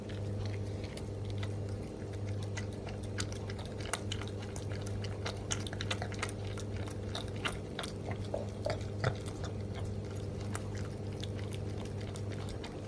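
Yasha the bobcat chews on a raw egg, with soft wet crunching and biting sounds repeating quickly and close in a quiet room.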